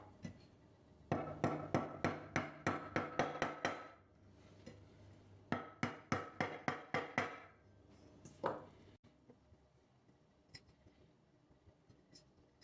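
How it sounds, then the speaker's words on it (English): A small hammer taps glides into a miter gauge in two fast runs of sharp, ringing metallic strikes close to the mic, each about a dozen blows, then a few scattered single taps before it quiets. "we're going to have to find a little hammer"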